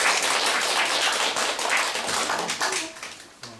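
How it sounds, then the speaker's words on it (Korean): Steady audience applause in a lecture room welcoming a coffee-talk lecturer, dense continuous clapping from a small crowd that thins out toward the end. "박수로 맞이해 주십시오"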